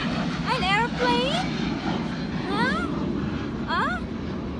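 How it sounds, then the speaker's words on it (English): An airplane passes overhead as a steady, broad engine rumble that holds at an even loudness throughout, while a person talks over it. "What is that? An airplane?"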